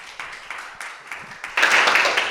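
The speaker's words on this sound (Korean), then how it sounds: "진혜경 교수님을 박수로 모셔보겠습니다" Audience at a startup business forum in Gangwon applauds to welcome a professor to the stage, scattered claps at first that swell into fuller, denser applause near the end.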